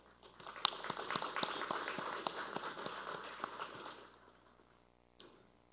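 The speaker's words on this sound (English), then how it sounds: "So give yourself a round of applause." Applause from an audience at a community college academic award ceremony, a dense crackle of many hands that swells, holds for several seconds, then fades out, followed by a brief lone clap or tap.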